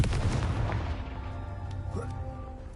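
A Confringo blast spell cast in Hogwarts Legacy erupts as a loud, booming explosion, then rumbles and fades under a low game soundscape.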